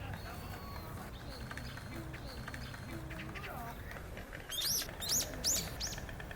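A magpie gives a few harsh, chattering calls near the end, while a voice talks steadily over faint background birdsong.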